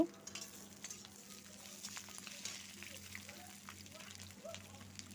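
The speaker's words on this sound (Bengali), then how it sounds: "পটলগুলো ভেজে নেব পটল আর আলু নুন আর হলুদ দিয়ে" Pointed gourd and potato pieces with salt and turmeric fry quietly in oil, a soft steady sizzle with faint stirring scrapes underneath.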